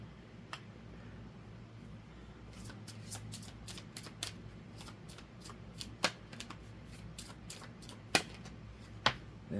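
Playing cards being drawn and shuffled in a quiet room, with a steady papery rustle broken by a string of sharp snaps and flicks that come close together and then spread out into irregular taps.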